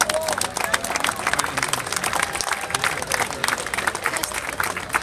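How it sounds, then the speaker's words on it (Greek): A crowd at a Greek Independence Day parade in Boston claps steadily and loudly, a dense outdoor applause that runs without a break, with faint voices mixed underneath. "Ένα δυνατό θερμό χειροκρότημα για τα παιδιά του Ελληνικού Κολέγιου."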